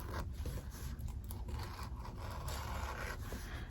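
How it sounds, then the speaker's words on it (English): Sharp scissors glide through fabric along a zipper on an in-the-hoop zipper bag, a close, quiet, continuous scraping rasp with small repeated strokes and no talking. "If your scissors are sharp enough, it will just slide."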